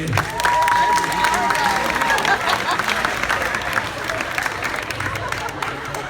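A hypnotist show audience at a 2017 Project Grad event applauds the volunteers, a dense, steady wash of clapping with crowd murmur and a faint whistle-like tone early on, sustained across the clip.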